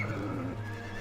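A horse whinnies in the fantasy game Dark Messiah, a drawn-out neigh near and fairly loud, with faint hoof clops beneath.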